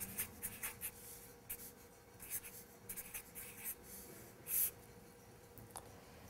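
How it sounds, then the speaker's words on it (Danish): A pen or pencil writes numbers on paper for a vertical subtraction problem, producing soft, irregular scratching strokes and taps, close but quiet, with no speech. "Vi skriver 635 minus 238 i en lodret opstilling."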